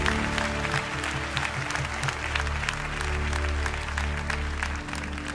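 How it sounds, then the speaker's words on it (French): An audience at a church conference claps to the Lord, a steady, dense wash of applause that holds loudly for several seconds over sustained tones in the background. "Clap to the Lord there"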